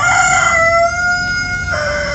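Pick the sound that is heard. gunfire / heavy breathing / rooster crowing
rooster crowing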